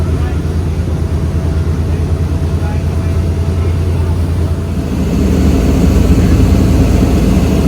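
A heavy, low boat engine drones without pause off the Amalfi Coast, with rushing wind and water noise, getting louder and rougher toward the end.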